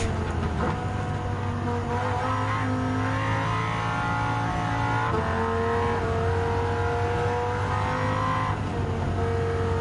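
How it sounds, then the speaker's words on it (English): A Dodge Viper race car engine roars in the Gran Turismo 7 video game during an American Clubman Cup race, a loud sustained drone with shifting pitch as it revs and changes gear. "Feel the good speed of that monster Dodge Viper"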